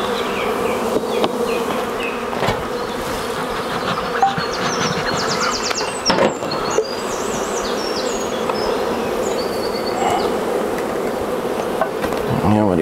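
Honeybees buzzing loudly and steadily during an inspection of a full Dadant (Brother Adam) hive with the queen excluder off, a dense continuous drone with a few brief knocks and clicks.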